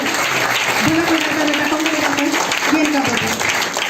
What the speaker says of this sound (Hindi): जोरदार ताली जिंदगी बदलने की।